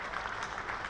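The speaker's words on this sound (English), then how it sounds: "as we hear him getting some warm applause as he leaves the field" Warm crowd applause at a county championship cricket ground as a batsman leaves the field, a brief steady patter of clapping from a distant crowd.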